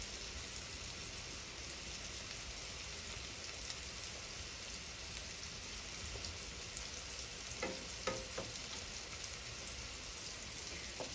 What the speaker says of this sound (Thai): ทอดไข่ใส่หอยใส่พักนี่ต้องทอดต้องแห้มๆหน่อยเจ้า